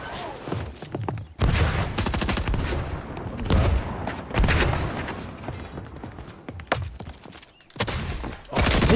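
Dense bursts of gunfire ring out in a shooter video game, rapid loud volleys and booming shots sounding almost continuously with brief pauses, close and dominant, with no talk over them.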